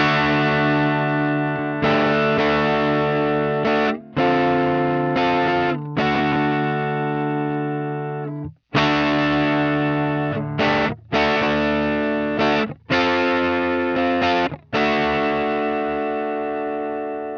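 Distorted electric guitar through a Plexi amp simulation playing sustained chords with brief gaps between them, loud and saturated, with a crunchy amp tone and no talking.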